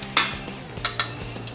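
Crushed Oreo biscuit cheesecake base is tipped into a metal cake tin, with a sharp clink of utensil on metal, then a few lighter taps and scrapes nearby.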